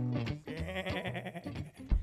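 A human voice imitates a sheep bleating, giving a wavering, nasal baa that lasts about two seconds, close and clear with no other sounds.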